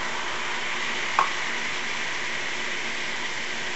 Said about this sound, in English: I'm going to add a ½ pound of ground pork to a hot pan